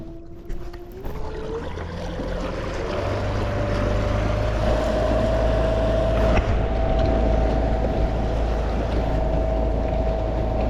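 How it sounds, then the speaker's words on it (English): Newport NT30 3HP electric outboard motor pushing a Jonny Boats Bass 100 kayak at full throttle, a rising whine that settles into a steady high hum over water rush and wind noise. "hit the maximum speed, and I want you to hear the motor"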